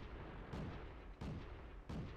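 Tank cannons fire in the World of Tanks video game, three evenly spaced booming shots about two-thirds of a second apart, fairly quiet and distant-sounding.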